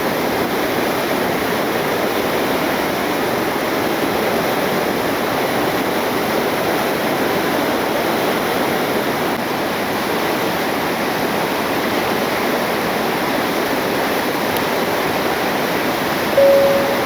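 Steady, loud rush of flowing water, a broad continuous roar as the Rocky River pours past under a street bridge, with no voices.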